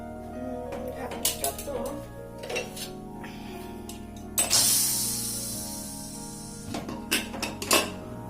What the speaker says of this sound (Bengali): এখন আমি প্রেশার কুকারে ঢাকনাটা খুলে ফেলবো